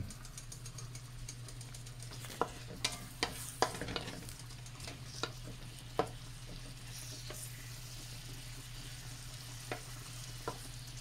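Buttered shrimp frying in a pan with a steady sizzle, broken by sharp clinks and scrapes of a utensil stirring and turning the shrimp, close up and fairly quiet.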